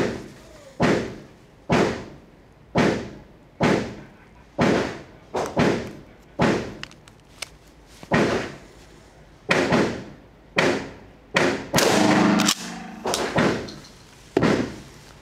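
Mossberg 590 Retrograde Series pump shotgun firing Federal 9-pellet copper-plated buckshot, a rapid series of about fourteen loud, sharp reports in a steady rhythm, each with a short decay and no talking.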